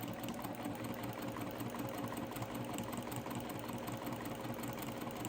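A sewing machine runs steadily while stitching curved fabric edges together, a close, even mechanical whir with a rapid needle chatter and no pauses.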